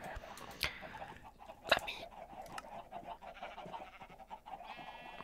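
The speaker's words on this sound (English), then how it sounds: "That cuts out the noises of all the animals because they get very annoying." Minecraft farm animals bleat and cluck in short scattered calls, a couple of louder sharp cries among softer ones over a quiet background, with no speech.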